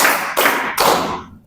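Hand claps in a counted clapping pattern: three sharp, close claps in quick, even succession, each ringing briefly before the next, with no voices over them.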